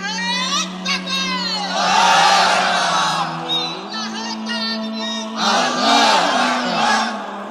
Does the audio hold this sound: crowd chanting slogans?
yes